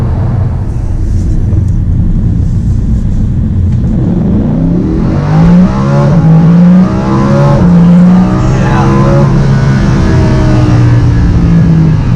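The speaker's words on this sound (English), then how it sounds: "Yes, this is a race car" Lamborghini Huracan race car engine roars loud and close, rising in pitch as it revs and accelerates hard, with a deep rumble throughout and no break in the sound.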